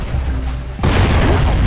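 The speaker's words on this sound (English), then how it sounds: "there's a guy shooting bombs at us" A single loud bomb blast in the video game Jak and Daxter, a sudden booming burst that cuts in midway after quieter game ambience and rumbles on with a dense, noisy tail.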